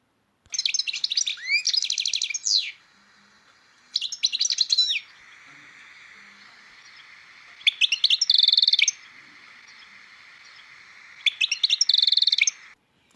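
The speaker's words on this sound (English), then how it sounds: "when a bird makes high pitched sounds, okay, repeated high pitched sounds is called a chirrup." A bird chirrups in four bursts of repeated, high-pitched calls, loud and close, with short gaps between them and no other sounds.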